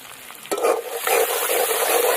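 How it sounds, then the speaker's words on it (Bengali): Chopped onions fry in hot oil seasoned with black cumin (kalo jeere), giving a steady bright sizzle that jumps louder as the ingredients hit the pan, with brief stirring scrapes. "পেঁয়াজটা ভালো করে একদম লাল করে ভেজে নেব"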